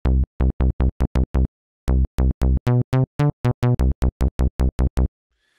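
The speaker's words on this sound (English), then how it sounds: "instead of running this through a filter, you can simply take an envelope and modulate the shape" A phase distortion oscillator plays a staccato run of short, punchy synth notes. An envelope sweeps the waveshape of each note with no filter. The notes are loud, dry and alone, separated by clean silences.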